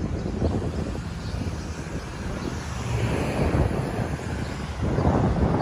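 Wind gusts across the microphone on an outdoor street in Philadelphia's Bridesburg neighborhood, producing a steady, loud rumbling roar that swells slightly toward the end.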